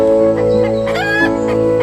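A little cockerel crows and clucks continuously, close and loud, in a drawn-out run of strained, warbling calls with no talk over it.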